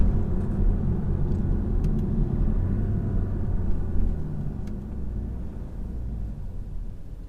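A 2017 BMW 420d Gran Coupe diesel accelerating hard in third gear, a deep, steady engine drone and road rumble heard from inside the cabin, with no voices.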